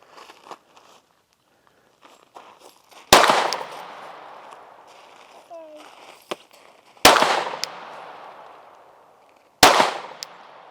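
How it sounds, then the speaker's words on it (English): A customised Glock 19 pistol with a Timney trigger is fired one-handed at a range, three loud, sharp shots spaced a few seconds apart, each ringing out and decaying, with faint handling noise in between. "First couple shots I'm going to do, I'm going to shoot one-handed so you guys can see the effects of the trigger"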